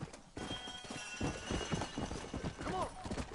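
Horse hooves clip-clop in the Red Dead Redemption video game, a steady run of soft thuds at close range, with a snort or whinny near the end and voice-like sounds layered over them.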